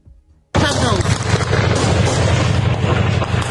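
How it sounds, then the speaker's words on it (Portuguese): After a quiet moment, a sudden loud burst of rapid gunfire erupts during a police operation in Complexo do Alemão, Rio de Janeiro, and keeps going as dense, continuous cracking and booming. "Dá para ouvir o barulho dos tiros."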